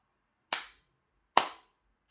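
Two sharp handclaps in a pair, close and crisp, spaced a little under a second apart in an otherwise quiet room.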